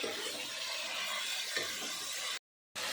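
Spices with chilli paste and cumin paste fry in a pan for Bengali bata fish curry, a steady close sizzle with scraping stirring strokes, a short silent gap near the end before the sizzle resumes.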